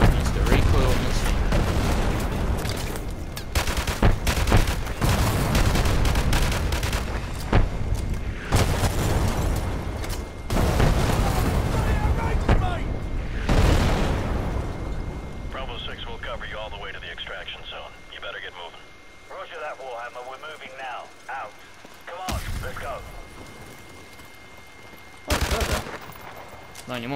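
Gunfire from Call of Duty: Modern Warfare Remastered, loud bursts and booms in repeated clusters over the first half, then quieter game sounds with a few more sharp reports, with talking over it.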